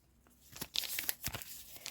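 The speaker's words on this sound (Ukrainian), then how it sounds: "Відкриваємо ми сьогодні ось такий ось гарненький пакетик." A small paper surprise packet is torn and crinkled open close up, with quiet, brief rips and crunches in short bursts.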